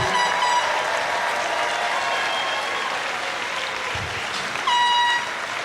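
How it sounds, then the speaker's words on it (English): Audience applause fills a middle school moving-up ceremony, a steady wash of many hands clapping throughout, with sustained tonal music or horn-like notes ringing over it and a brief louder swell near the end. "One last time, everybody, give them a round of applause."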